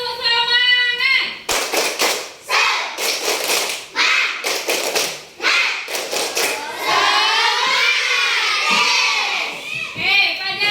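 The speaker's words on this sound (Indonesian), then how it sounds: "Tepuk semangat." Schoolchildren in a classroom perform a rhythmic clapping chant, loud bursts of claps in quick patterned groups alternating with shouted chanted lines, led by a teacher's voice, ending in a cheer.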